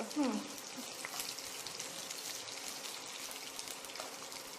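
Chopped onions hit hot oil tempered with curry leaves for a chicken dish, giving a soft, steady, rain-like sizzle after a short knock at the start, with faint talk in the background.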